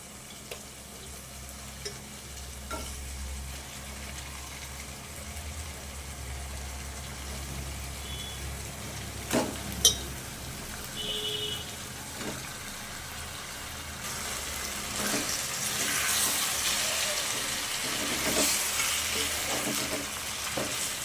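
Fish pieces coated in masala fry in a pan for fish fry, giving a continuous close sizzle that swells louder toward the end, with a few scattered clinks as the pieces are turned.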